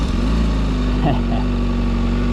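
A Honda CBR600RR motorcycle with stock exhaust idles with a low, steady rumble close by, with a short rise in revs partway through.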